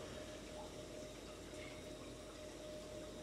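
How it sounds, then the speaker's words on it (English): A large Deltec protein skimmer runs in a reef tank sump, giving a faint, steady hum of pumped, bubbling water with no other sounds. "And down into the sump here, a massive Deltec skimmer"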